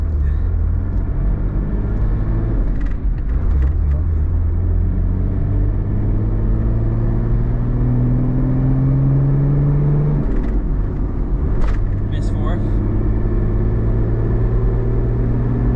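A JDM car with a turbo pulls away in first gear, its steady engine rumble and rising whir carrying close and loud throughout, with a few brief clicks and knocks from the cabin.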